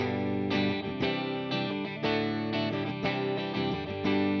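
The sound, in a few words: electric guitar through amp simulator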